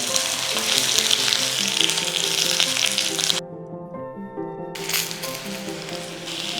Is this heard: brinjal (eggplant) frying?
yes